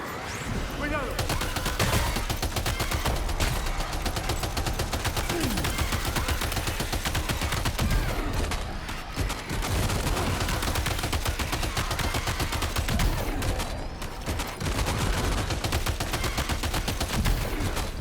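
Sustained rapid gunfire while shooting enemies in Death Stranding 2, dense continuous shots running nearly throughout with short pauses, mixed with talking.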